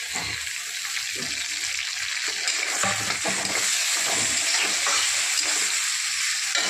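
Tomato hitting a hot pan while frying, giving a loud, steady broadband sizzle that holds for the whole stretch, with faint stirring or scraping beneath it and no talking.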